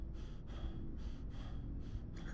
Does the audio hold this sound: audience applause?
no